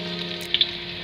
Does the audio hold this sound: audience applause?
no